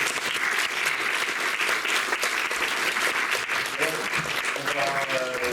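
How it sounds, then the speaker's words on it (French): Applause from a conference audience at a talk on the French manga market, dense and sustained clapping from a large crowd, with a voice starting to speak faintly underneath near the end. "Je pense qu'on peut les applaudir une nouvelle fois."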